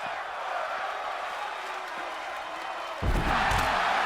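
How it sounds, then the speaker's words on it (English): A wrestling crowd in an arena chants "fight forever" as a broad, steady roar, then swells louder with deep thuds and cheering near the end. "The crowd chanting"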